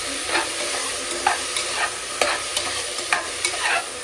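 Curry cooks in a pan on the stove, sizzling steadily while a utensil scrapes and stirs in repeated strokes about every half second.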